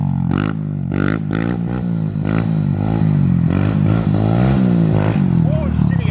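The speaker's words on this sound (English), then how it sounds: "Let Anthony doing his typical circle wheelies" A pit bike with a new exhaust revs loudly and continuously during circle wheelies, the engine pitch rising and falling in close, steady surges while voices talk over it.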